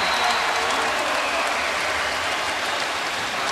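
A basketball crowd cheering the Portland Trail Blazers after Brandon Roy's shot against the Houston Rockets, a dense, steady roar of applause and cheering filling the arena without letup.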